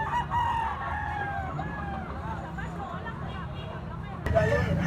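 A Kelso bloodline gamecock stag crows close by, its drawn-out call rising over a steady murmur of people talking nearby.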